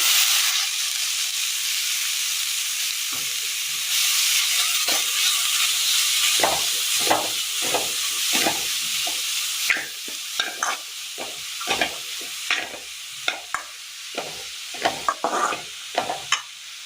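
Vegetable thoran mixture tipped into a pan after a mustard-seed tempering hisses and sizzles steadily, with repeated scraping stir strokes growing more frequent; no voices.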